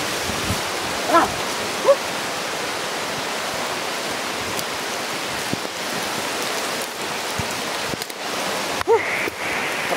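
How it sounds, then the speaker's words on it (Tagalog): Heavy rain pours steadily as a dense, unbroken hiss, with a few faint knocks and splashes scattered through it. "Kasi sobra na lakas ng ulan."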